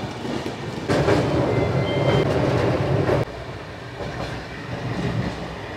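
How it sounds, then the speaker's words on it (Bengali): An overnight train from Howrah to Jagdalpur runs at night after pulling out of Bagnan station. A loud steady rumble with clickety-clack wheel rhythm is heard from inside the coach, dropping abruptly quieter partway through. "এরপর বাগনান ট্রেন ছেড়ে দিয়েছে"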